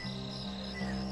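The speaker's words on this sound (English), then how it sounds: "I heard the crickets chirp and the frogs croak and the occasional bird coo." Crickets chirping at night in a bayou, a continuous shrill trill held steady and fairly faint, with no voices.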